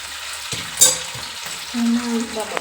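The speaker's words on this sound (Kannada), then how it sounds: "ಫ್ರೈ ಮಾಡ್ಕೊಳ್ಳೋಣ" Egg and potato frying in a pan, a soft low sizzle with brief stirring scrapes and a couple of sharp clinks, steady and close with no talk.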